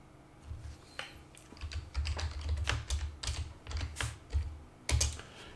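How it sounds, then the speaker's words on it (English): A command is typed on a computer keyboard running Linux Mint 21.1 MATE, a close, fairly quiet run of irregular key taps lasting several seconds with no voices. "Systemctl, one word, space, power off, is what I'm going to type into here."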